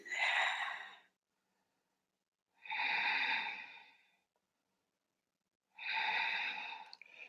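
Three slow, deliberate breaths during a yoga pose, each a close, airy rush lasting about a second, separated by long silent pauses.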